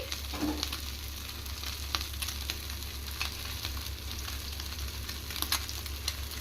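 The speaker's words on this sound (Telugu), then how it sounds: "చూడండి చేపలు మొత్తం ఈ విధంగా ఫ్రై అయితే మాకు సరిపోద్ది." Fish frying in oil on a thick tawa, beach style, makes a continuous close sizzle over a low steady hum, broken by sporadic crackles and spatters, with no speech.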